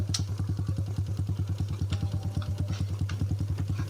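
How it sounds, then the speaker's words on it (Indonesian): A motorcycle engine runs loud and close with a fast, steady thumping beat, a rough clattering pulse that holds throughout without talk. "Motor sakieu tarik goer-goer kadenge."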